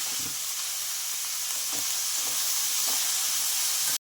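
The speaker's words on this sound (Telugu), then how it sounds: "ఇప్పుడు దీంట్లోకి సాల్ట్ వేసుకొని కొద్దిసేపు ఉడికించుకోండి." Ivy gourd (dondakaya) cooks with salt in a pan, giving a steady, close, even sizzle that runs unbroken and then stops abruptly.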